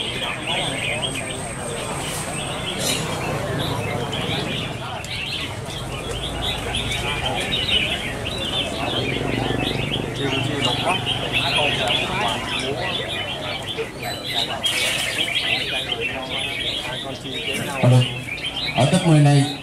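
Red-whiskered bulbuls sing in a bird song competition, their bright chirps and warbling phrases overlapping continuously, with a voice commenting beneath the birdsong throughout.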